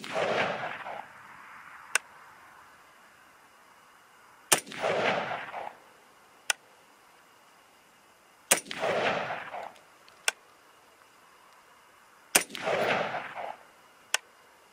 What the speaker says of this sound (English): So here we go. 5 shots.